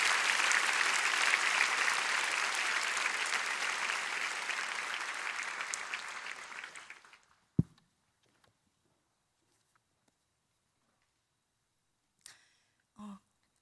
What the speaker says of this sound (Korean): 강사님 나오실 때 힘찬 박수로 환영하며 맞이하겠습니다